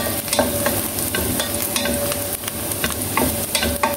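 Garlic and onion fry in a pan for chicken wing adobo, a loud, steady sizzle broken by repeated stirring scrapes, with no voices.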